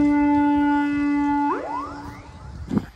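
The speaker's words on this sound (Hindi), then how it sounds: "जल्दी से सायरन बज गया है" A steady electronic siren tone holds for about a second and a half, then cuts off with a rising sweep, followed by some background rustle.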